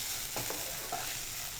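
Ivy gourd (dondakaya) with turmeric and red chili stirred in a hot pan, a steady low sizzle with a couple of soft scraping strokes of the spoon, heard alone.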